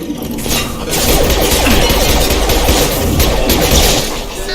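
Gunfire during a firefight in the video game Mass Effect 2, a loud, dense burst of crackling shots and impacts sustained for several seconds.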